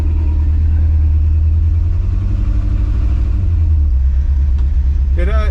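A 1957 Chevy from DD Speed Shop rumbles along with a loud, steady low engine drone heard from inside the car, someone talking over it throughout.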